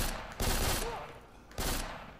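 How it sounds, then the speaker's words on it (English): Booming blast from the video game Black on the Nintendo 3DS: two loud broadband bursts, the first longer and the second shorter, over a rumbling game background. "That was a big explosion."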